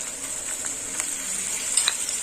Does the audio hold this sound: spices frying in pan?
yes